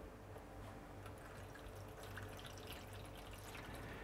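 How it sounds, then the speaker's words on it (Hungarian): Water poured into a small baking tray beneath food being readied for a 160-degree oven, a steady, faint trickle and splash running without pause, with no talk over it. "öntünk alá egy kis vizet"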